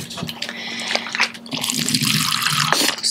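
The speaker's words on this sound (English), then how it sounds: "squeeze yourself a cup of water" Water squeezed from a squeezable Brita filter bottle into a cup, giving close, uneven trickling and splashing that builds into a steadier pour over a few seconds.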